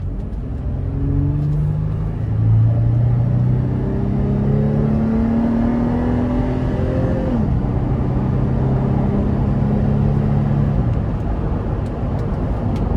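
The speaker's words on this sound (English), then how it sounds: "So with a high displacement V6 and a 5-speed automatic with pretty long gears, this gives pretty good pulls, especially from the lower gears, getting up to speed" A 2019 Toyota 4Runner SR5 Premium with a high-displacement V6 and five-speed automatic accelerates through its gears. A steady, loud engine drone rises in pitch, drops at the shift, then climbs again under constant road rumble.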